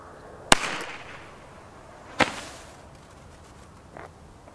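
Umarex Hard Rock Star pyrotechnic munitions go off outdoors as two sharp, loud cracks a couple of seconds apart, each trailing off quickly, followed by a faint small pop.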